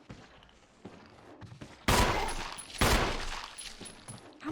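Gunshots in Resident Evil HD Remaster: a few soft thumps, then two loud, booming shots about a second apart, each trailing into a long echoing decay.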